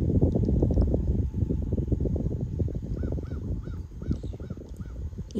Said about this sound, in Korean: 까마귀 소리가 자꾸 들리니까 듣기가 싫습니다.